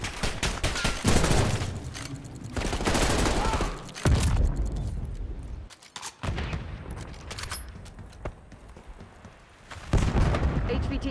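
Gunfire in the shooter game Call of Duty: Black Ops 6, with loud bursts of automatic weapons and heavy booms arriving in clustered volleys, broken by brief lulls, close and intense throughout.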